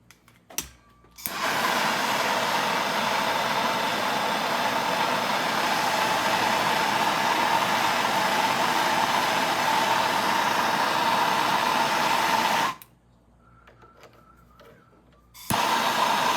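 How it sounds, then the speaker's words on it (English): A MAP gas torch roars steadily for about eleven seconds while heating a bolt on a 1971 Norton motorcycle engine during an oil leak check, a loud constant hiss that cuts off abruptly and then briefly flares again. "let's see what happens when I hit it with the map gas"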